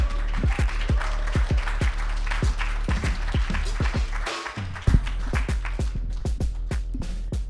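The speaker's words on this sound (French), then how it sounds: "Faites un tonnerre d'applaudissements pour Jessica D'Alterio!" A comedy club audience claps for a stand-up comedian coming on stage, with a rhythmic stomping or clapping beat running under the applause, which briefly dips midway before picking back up.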